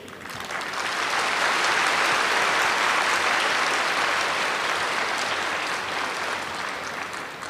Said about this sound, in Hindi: अपने लिए दिल से बहुत ज़ोर से ताली बजानी चाहिए